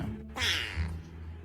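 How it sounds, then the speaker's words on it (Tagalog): A cat gives a single short meow, close and fairly clear, over a low steady background hum. "Meow."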